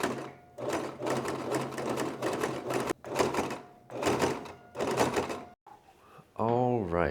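Home sewing machine stitching casing fabric for a clown costume, running in several loud, steady bursts separated by short pauses, followed by a brief voice at the end.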